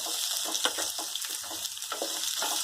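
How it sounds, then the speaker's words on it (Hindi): A large onion fries in a hot pan for palak paneer, giving a dense, even sizzle up close with faint stirring clicks scattered through it and no talking. "अब इसमें डालेंगे एक बड़ा प्याज और इसे पकाएंगे"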